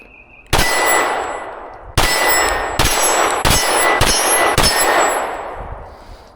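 Six 9mm pistol shots ring off steel targets at an outdoor range, each a sharp crack followed by a bright metallic clang that decays slowly, fired in an uneven quick sequence.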